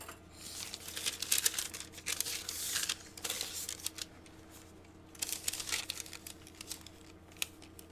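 Scissors slice through parchment paper in a run of crisp, rustling snips and crinkles, close and steady with brief pauses, in a quiet room.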